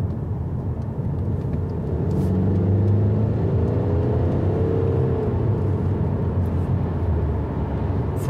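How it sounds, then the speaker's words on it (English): A steady low diesel engine hum and road noise fill the cabin of a Mercedes C-Class while driving, with no talking over it. "From the engine, because it's diesel engine, but not much"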